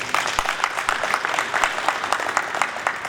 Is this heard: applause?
yes